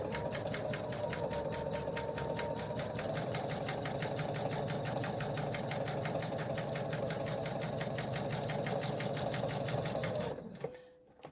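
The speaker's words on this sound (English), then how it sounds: "So now I'm going to sew directly on the line, as close as I can, directly on the line between A1 and A2." A sewing machine stitches fabric along a marked line in a fast, even run of rapid needle strokes, close and steady for about ten seconds before slowing and stopping.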